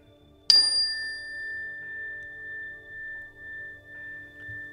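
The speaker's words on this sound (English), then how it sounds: "The bell." A single bell struck once, a clear ringing tone that hangs and slowly fades with a gentle pulsing decay over several seconds in a quiet room.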